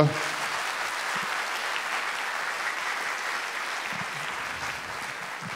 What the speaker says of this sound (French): j'aimerais qu'on applaudisse encore très très fort